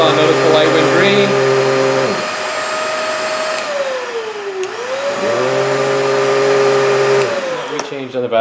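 Riccar S40P upright vacuum cleaner switched on, its motor spinning up into a loud steady whine with a dip in pitch midway, then resuming its full drone, close to the microphone.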